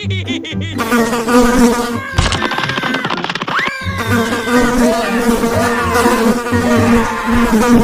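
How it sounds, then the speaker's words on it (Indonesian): Bees buzzing loudly during a cartoon chase with superheroes, a dense whining drone mixed with sliding cartoon sound effects and busy background music, nonstop for the whole stretch. "superhero kartun yang dikejar lebah"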